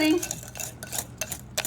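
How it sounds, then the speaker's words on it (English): Metal whisk clinks and scrapes around a bowl of chocolate meringue pie filling, several quick strokes in a short close burst with no talking. "We're going to whisk it and get it looking right"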